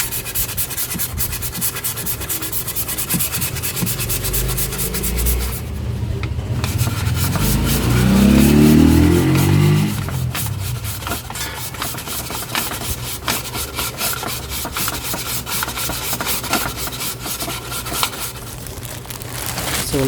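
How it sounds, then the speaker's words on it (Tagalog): A Montero Sport brake rotor is sanded by hand in a continuous, close, coarse rubbing and scraping that swells heavier for a few seconds midway before settling back into an even rasp. "So, lihain naman natin itong rotor, no?"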